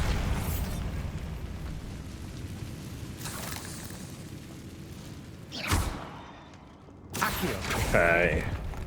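A Bombarda blast spell goes off in Hogwarts Legacy, a sudden booming burst followed by a crackling, rumbling tail, with further magical bursts and game effects around it over a steady background bed.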